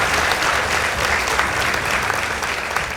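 A high school debate audience gives the competing teams a round of applause, a dense, even roar of crowd clapping that holds steady and fairly loud for the whole stretch.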